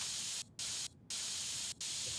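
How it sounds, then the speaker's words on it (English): Spray paint hisses onto a PC case in PC Building Simulator 2 in three bursts separated by short gaps, a loud, close, even white-noise spray. "Spray paint the entire case."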